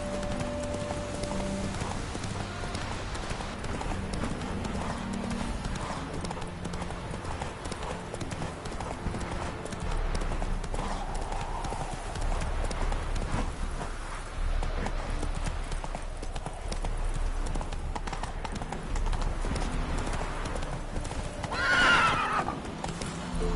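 Hooves of a horse in The Witcher 3 gallop in a fast, rhythmic clip-clop throughout, with whinnies and neighs breaking through during a mounted race, plus occasional brief spoken lines.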